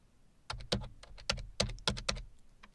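A command typed on a computer keyboard, a quick run of close, crisp key clicks in small clusters after a brief quiet start.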